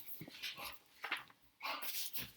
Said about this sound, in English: That's Cornflakes barking at something.